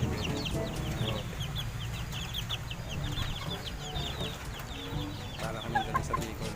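Chickens cluck and murmur in a farmyard, with scattered short calls over a continuous low background, fairly close and moderately loud, with no talk.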